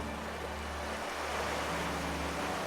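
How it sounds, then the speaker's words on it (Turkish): Ocean waves washing onto a beach in a steady, continuous broadband wash with no distinct breaks, heard alone at moderate level. "Dalgaların sesini de duyuyorsun."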